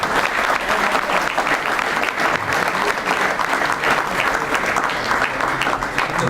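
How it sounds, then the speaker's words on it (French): Loud, sustained applause from a ceremony crowd honouring a national gold medal athlete, a dense roar of many clapping hands that stays full and even from start to finish. "Un tonnerre d'applaudissements pour Morgan Salomon."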